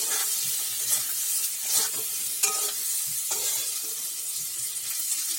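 Salt, ground coriander, ginger paste, turmeric and ground cumin sizzling steadily in hot oil for a cabbage curry, with regular scraping strokes of a spoon stirring the paste, continuous and close, no voices.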